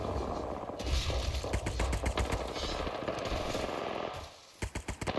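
Automatic weapon fire rattles in rapid sustained volleys during an Apex Legends match, dips briefly, then returns as a few short, sharp bursts at the end.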